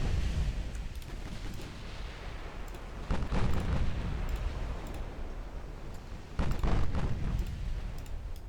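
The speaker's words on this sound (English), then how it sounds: "Churchill takes a torpedo hit." Heavy rumbling blasts from a torpedo striking a warship in the naval battle game Ultimate Admiral Dreadnoughts, with a thick low roar throughout and two sharper, louder explosive bursts rising midway and near the end.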